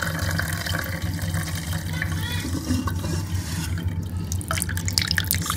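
Beef yakhni broth is strained, with liquid pouring and splashing steadily close by for several seconds. Dripping and trickling continue throughout, with no talking.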